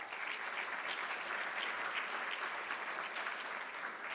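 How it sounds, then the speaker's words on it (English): A civic forum audience in a large room claps steadily for several seconds, dense even applause without clear cheers, moderately distant. "Jerome brought his own cheering section with him"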